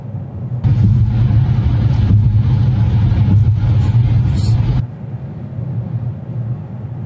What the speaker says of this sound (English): pull up that decibel meter and see what road noise we actually have here